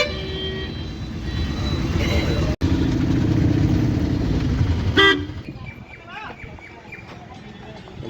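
A crowded share auto rickshaw in Kanchipuram hums along through traffic, its engine a steady mid rumble, with several short car horn toots near the end while people talk over the ride.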